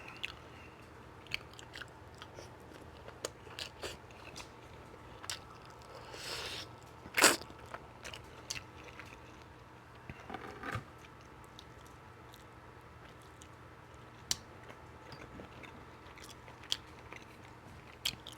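Close-miked biting and chewing of Caribbean oxtail, with wet, sticky mouth sounds and sporadic crunchy clicks at irregular intervals over a quiet background.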